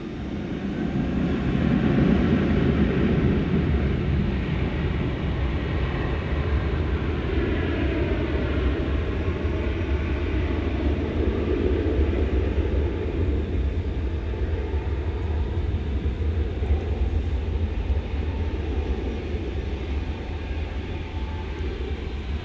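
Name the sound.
American airliner taking off from DFW runway 18 left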